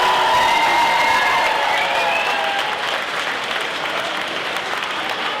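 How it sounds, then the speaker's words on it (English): After a boxing title fight, the arena crowd applauds both fighters, a loud steady wash of clapping mixed with cheers and whistles that holds evenly for several seconds. "Round of applause for both of these fighters."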